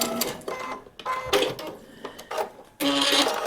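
A sewing machine runs in short bursts while back stitching the end of a seam on a paper-pieced quilt block, with brief pauses between the loud, close runs.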